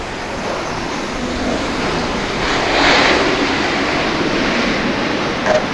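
A fixed-wing airliner roars steadily as it lands in mist at Dallas Love Field, its broad engine rumble swelling slightly midway and then holding, heard alone from a distance.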